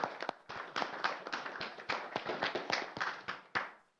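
A council meeting audience claps in a scattered, uneven patter of individual hand claps that tails off after a few seconds. It is faint and heard without any talk.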